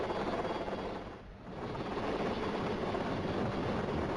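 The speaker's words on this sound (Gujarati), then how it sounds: "આપણે ટીવી સ્ક્રીન પર જોઈ શકો છો હેલિકોપ્ટરથી આ રેસ્ક્યુ ઓપરેશન હાથ ધરવામાં આવ્યું છે." A helicopter on a flood rescue operation in Vapi during heavy rain: a steady, distant engine and rotor drone that dips briefly, then holds at an even, moderate level with no voices.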